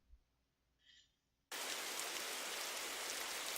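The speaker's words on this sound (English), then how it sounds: "you have a really nice ambient looping rain sound" Ambient rain loop playing in a Unity scene: after a brief faint lead-in, a steady, loud hiss of dense rainfall starts abruptly and continues without variation.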